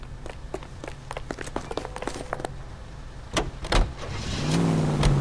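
A car in a detective video game: a run of clicking and thudding door and handling sounds, then the engine starts and revs up into a steady drive toward the end.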